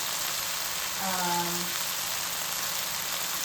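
Sliced onions fry in a pan in an even, close sizzle with a crackling, rain-like texture. A voice murmurs briefly partway through.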